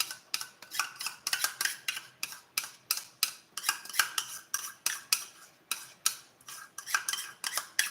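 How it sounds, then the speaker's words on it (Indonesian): A spoon stirs brownie batter for a caramel brownie bread in a bowl, giving a steady run of quick metallic scrapes and clinks, close and fairly quiet, with no talking. "Lalu kita aduk-aduk lah teman-teman."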